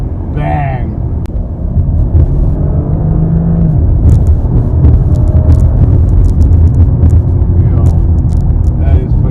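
Audi SQ7 V8 engine revving with a deep, loud rumble that swells and holds steady throughout, over a short opening burst, with a person talking over the engine noise.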